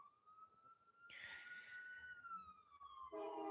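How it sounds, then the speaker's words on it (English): An emergency vehicle siren passes outside a house with windows closed, a faint wailing tone that rises and falls steadily behind a low background hum, muffled and distant. "Sorry, siren going by."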